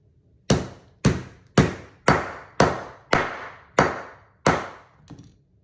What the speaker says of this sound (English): the priming rod just goes right in, and you just hold it and you just start whacking until you feel that primer seat